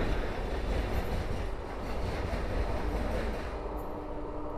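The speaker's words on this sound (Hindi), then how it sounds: "अभी आ रही है भारत की सबसे high speed train Vande Bharat" A Vande Bharat high-speed express train passes close by, a loud, continuous rushing rumble of wheels and carriages that holds steady throughout with faint clatter and no talking.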